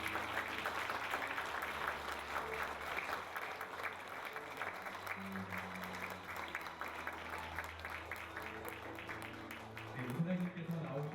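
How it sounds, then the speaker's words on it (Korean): Audience applause at an honorary doctorate conferral ceremony fills a large hall as steady, fairly distant clapping with a voice speaking over it throughout. "함께 큰 박수 부탁드리겠습니다"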